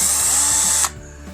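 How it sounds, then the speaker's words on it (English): A Craftsman V20 cordless drill runs at a steady high whine close by, then winds down and stops, leaving faint low background noise. "it's a nice little drill, and I use it extensively"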